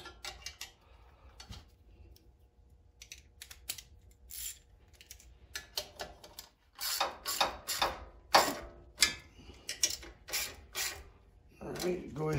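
A wrench tightens nuts on a Briggs & Stratton 6000 watt generator during a gasoline-to-propane conversion, giving a close series of quick metallic clicks and ratcheting ticks that grow busier partway through.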